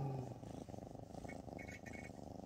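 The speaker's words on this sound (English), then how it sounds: "a really loud purring kitty" A house cat's deep, rumbling purr pulses in a steady rhythm close to the listener inside an RV, with a faint higher voice briefly audible in the background.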